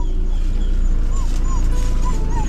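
Dogs whimper and whine in thin, high rising cries outdoors at a house, several short whines in a row. A constant loud rumble of engine or wind noise fills the background.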